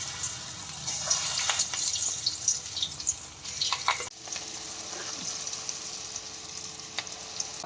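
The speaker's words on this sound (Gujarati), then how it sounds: "આપણે આ મીડિયમ ફ્લેમ ઉપર જ આપણે આને પકાવીએ છીએ" Semolina bhajiya fritters fry in oil over a medium flame, a continuous close sizzle with crackling bursts that settles to a quieter bubbling hiss partway through.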